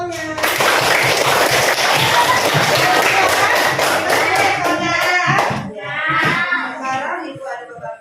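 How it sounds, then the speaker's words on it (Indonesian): Children applauding a classmate in a classroom, several seconds of dense, loud clapping from many small hands that thins out and gives way to a teacher talking and children's voices. "Tepuk tangan untuk kawannya"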